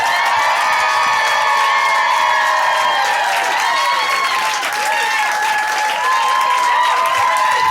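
Comedy club audience applauding and cheering for a stand-up set, a dense, steady wash of clapping with scattered whoops that holds loud throughout without letup.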